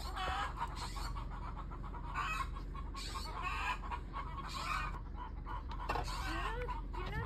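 Several chickens cluck repeatedly in short bursts, fairly close, over a steady low hum with an occasional higher squawk.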